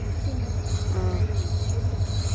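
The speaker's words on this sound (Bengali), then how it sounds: "গাইস ট্রেনটা আসছে গাইস ট্রেনটা আসছে দেখুন আপনারা" A train approaches with a low, steady rumble that stays fairly constant, heard from a distance with no talking.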